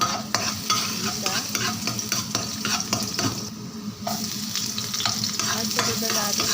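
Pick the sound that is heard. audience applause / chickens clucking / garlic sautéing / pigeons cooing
garlic sautéing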